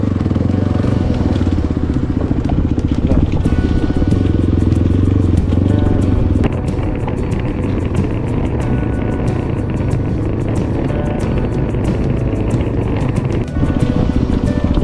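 A heavily loaded motorcycle carrying rider and luggage climbs a mountain route toward a tea plantation, its engine droning loud and steady close up, with wind buffeting and rattling throughout.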